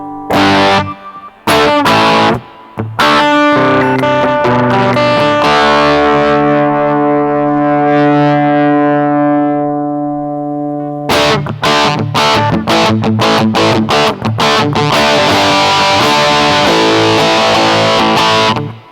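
An EHX Metal Muff Pocket distortion pedal drives an electric guitar through loud, saturated chords: choppy stabs, a long sustained ringing chord that slowly decays, then a dense run of heavily distorted riffing with no talk.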